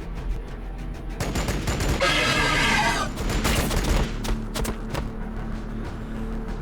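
Bolt pistols fire in the Warhammer 40K video game Battlesector during a Blood Angels battle, giving repeated sharp shots and a dense burst of fire in the middle over steady game ambience.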